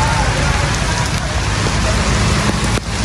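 Heavy stormy rain pours down in Gujranwala, a steady dense hiss of drops on surfaces that fills the whole stretch, loud and unbroken.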